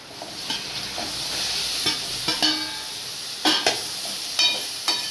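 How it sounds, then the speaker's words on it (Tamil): Tomatoes go into a hot pan and fry with a soft sizzle, punctuated by several loud clanks and scrapes of a spatula stirring against the metal, close up and without talking. "இப்போ தக்காளி பழம் போட்டுருவோம்"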